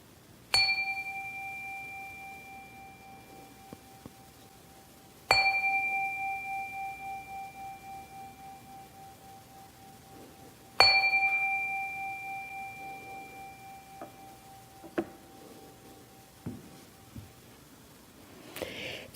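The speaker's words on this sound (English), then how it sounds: "let's settle our minds and our hearts with the ringing of our chime" A single chime rung three times at a Sunday church service, each strike a clear bright ding that rings out and slowly fades over several seconds, spaced evenly, with faint room noises between and no talking.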